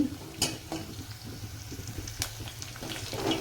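Onions frying in a pan for idli upma, a soft steady sizzle with occasional stirring scrapes and light clinks close by, no voices.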